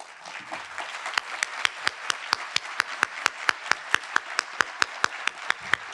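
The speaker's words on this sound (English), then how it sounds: "This is a really well-deserved round of applause." Round of applause at a university summit welcome session, sharp distinct hand claps in a fairly regular rhythm, growing denser after the first second and continuing steadily with no talk.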